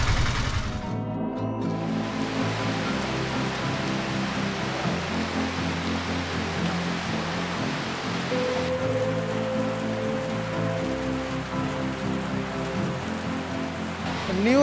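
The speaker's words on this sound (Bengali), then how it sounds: "ভালো পরিমাণ বৃষ্টি ভাই।" Heavy monsoon rain falls steadily on the way to Debotakhum in Bangladesh, heard from inside a CNG auto-rickshaw. A dense, even hiss runs throughout over the low droning hum of the vehicle's engine.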